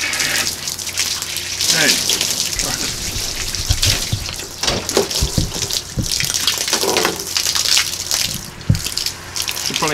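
Water gushing from a garden hose while a WORX Hydroshot is connected, a steady loud hiss and splatter running throughout, with a voice speaking briefly over it and occasional handling knocks.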